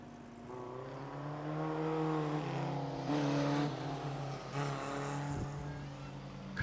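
Junior sedan race cars at Kingaroy Speedway, engines droning and rising in pitch as they accelerate, heard at moderate distance with a brief passing surge.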